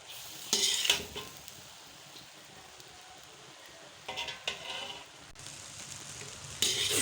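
Vegetable egg fried rice being stirred in a pan: a steady low sizzle with a few louder scraping bursts of the spatula against the metal, no voices.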